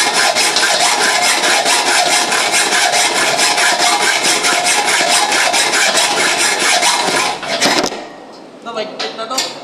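A hacksaw rasps through metal pull-tread in fast, even back-and-forth strokes, loud and close, before stopping near the end and leaving a few light clinks.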